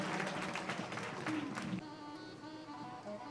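Audience applause at a Hindu devotional katha gathering, a dense patter of clapping for almost two seconds that fades, leaving a quieter hum of the hall.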